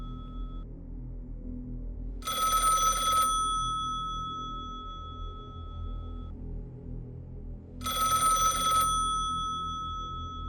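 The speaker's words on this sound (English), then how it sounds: "We answered the phone" A telephone rings twice, each ring a loud, bright electronic burst of about a second, separated by several seconds of quiet room tone with a faint lingering tone between them.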